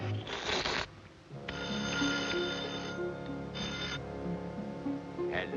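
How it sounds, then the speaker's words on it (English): A cartoon telephone rings in a Woody Woodpecker short, a loud bell sounding in repeated bursts with short gaps and a fainter ring near the end, set against background music. "Phone, Wally Walrus"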